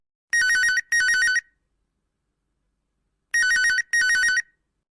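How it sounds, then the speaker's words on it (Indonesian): A mobile phone ringtone sounds alone, with two pairs of short, bright electronic trilling bursts separated by a few seconds of silence. "Bunyi telepon ibuku."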